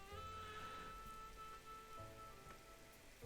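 Steady rain falls and patters on surfaces, a soft, continuous hiss with faint scattered drops, quiet and even with no voices.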